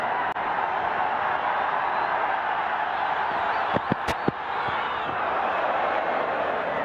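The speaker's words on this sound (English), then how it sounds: "those in attendance are just cheering every single run as if it's a massive event" Spectators at a Nepal Premier League cricket match fill the ground with a steady, distant crowd roar for several seconds, with a few sharp claps and bangs standing out midway.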